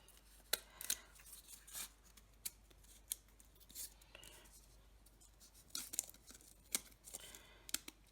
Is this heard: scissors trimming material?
yes